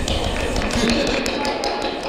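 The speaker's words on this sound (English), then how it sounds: "We're applauding you guys." An audience claps for the school board candidates at a candidates night in Highland Park, NJ, a steady, dense patter of many hands filling the room for a couple of seconds, with faint voices mixed underneath.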